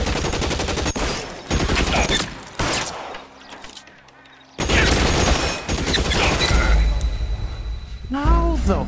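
Bursts of gunfire in the LA Noire video game, loud rapid volleys separated by brief lulls, with someone talking over parts of the shooting.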